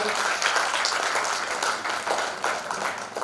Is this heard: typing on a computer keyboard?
no